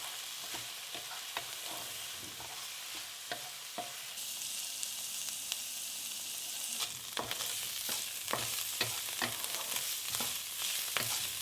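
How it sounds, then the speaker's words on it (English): Ginger, garlic, slit green chilies and onion stalks stir-frying in a pan on a low flame, a steady sizzle throughout with repeated sharp clicks and scrapes of a spoon stirring, growing a little louder toward the end. "Stir and cook them on a low flame for a couple of minutes."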